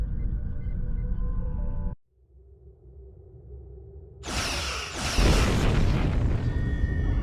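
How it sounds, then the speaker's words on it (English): Starship weapons fire and explosions in Star Trek Online, aimed at an Undine planet killer. A steady drone cuts out, a low rumbling boom follows, then a loud, dense blast of crackling weapon fire and explosions keeps going to the end. "Target that ship, and fire all weapons!"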